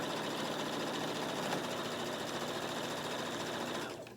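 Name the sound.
sewing machine stitching tote bag lining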